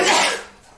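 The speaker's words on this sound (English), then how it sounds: "Had to sneeze and didn't get the chance to mute it in time." A single short sneeze bursts out close to the microphone during a home cooking stream, sharp and breathy at first, then quickly trailing off.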